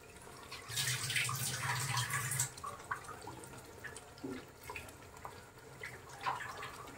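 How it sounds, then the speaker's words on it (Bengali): Water runs and splashes into a container as a masala paste of mint leaves, tomato, onion and garam masala is rinsed out for chicken biryani, a steady pour followed by softer trickles and drips. "একটু ধুয়ে পানি দিব।"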